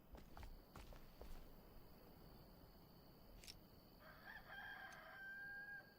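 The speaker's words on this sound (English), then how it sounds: "I hear the rooster." A rooster in the video game Enshrouded crows faintly in the distance, one drawn-out call near the end over soft footsteps and quiet background ambience.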